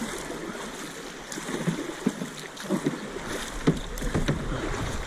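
A canoe paddled on the Salt River, with repeated splashy paddle strokes and water churning close by under steady flowing-water noise.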